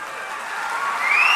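Crowd applause at an outdoor cement plant foundation ceremony, a dense unbroken patter of many hands that swells slightly louder toward the end.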